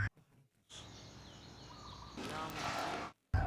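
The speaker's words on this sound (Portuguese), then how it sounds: "só se ouvem passarinhos." Small birds chirp with thin, wavering whistles in Vietnam over a steady outdoor background hiss that swells louder toward the end.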